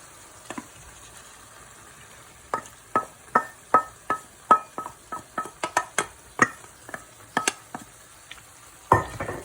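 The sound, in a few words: tomatoes added to frying eggplant in pan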